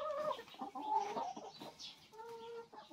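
Hens cluck beside their eggs in a short, close run of irregular clucks and soft, tonal calls, some overlapping, with no talk.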